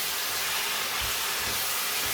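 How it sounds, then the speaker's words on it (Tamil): Mixed mutton hits a hot pan for a Sri Lankan style curry, sending up a loud, steady hissing sizzle with a few low thumps, no voices. "இப்போ நான் இந்த மிக்ஸ் பண்ணி வச்ச இறைச்சியை நான் இதுக்குள்ளே கொட்ட போகிறேன்"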